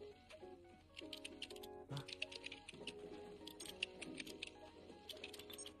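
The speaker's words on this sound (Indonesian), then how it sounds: "Ngetik guys, kita ngetik." Rapid keyboard typing in the video game Stray, a quick run of light clicks and taps layered over the game's melodic background music.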